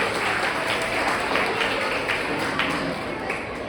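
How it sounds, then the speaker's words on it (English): An audience applauding children at a school Teachers' Day event, a fairly faint, steady wash of clapping with light tapping textures throughout. "A big round of applause to our dear children."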